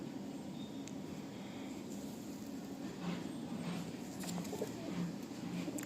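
Pigeons coo softly and repeatedly in a loft where a female and a restless male pigeon are kept, low throaty calls overlapping over steady background hiss with faint chirps.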